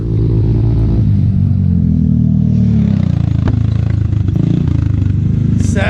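Off-road vehicles at the Pismo Beach sand dunes rev hard against their rev limiters, a loud, continuous engine roar with rapid stuttering pulses and clatter, close by throughout.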